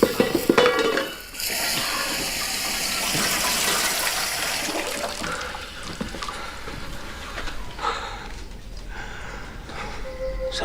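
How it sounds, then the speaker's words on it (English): A saucepan clatters loudly in a domestic kitchen, a burst of metallic banging and scraping with running water, fading to softer rattles and bumps. "It's only a saucepan, my love."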